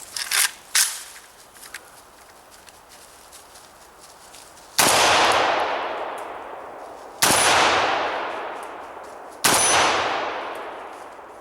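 A Century Arms C39 AK-47 firing Wolf ammunition at a 6-inch steel plate about 45 to 50 yards away: three loud, evenly spaced shots, each with a long ringing decay. A few lighter clicks come before them.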